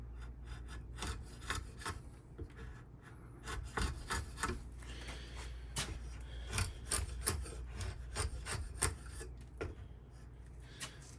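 Thin wood shavings are pared off a battle axe handle being made with a modern head, heard as steady close scraping and rasping strokes in an irregular rhythm, with no talking.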